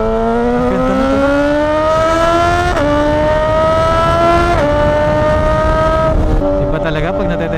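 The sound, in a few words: Suzuki GSX-S1000 motorcycle engine revving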